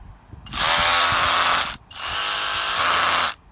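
A brand-new Work Zone 20V cordless SDS rotary hammer drill from Aldi runs in hammer mode in two loud, close bursts of about a second each, with a brief pause between them.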